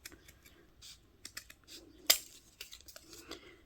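Scissors snip and trim paper for junk journal embellishments, a run of soft, close, irregular cuts and rustles with one sharper snip.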